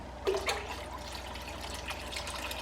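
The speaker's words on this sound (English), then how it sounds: "Gotta pour it nice and slow" Water pours slowly into a home fish tank, with a soft splash at the start and then a gentle, steady trickle and gurgle close by, faint and continuous.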